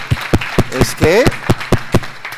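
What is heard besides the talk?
audience applause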